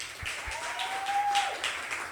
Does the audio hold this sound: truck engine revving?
no